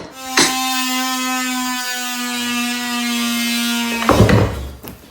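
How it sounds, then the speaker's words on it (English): A power tool chiselling a cable channel into a floor during a home renovation, a steady high motor whine running for about four seconds, then a harsh burst of grinding and clattering as it bites in, close and loud, with no talking. "what he's trying to do here is chisel out a channel for the cables to hide"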